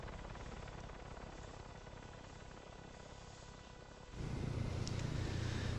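Engine of a V-44 Blackfish tiltrotor aircraft in ARMA 3, a steady loud rotor and turbine drone that jumps louder and rougher partway through as power changes, with no talking.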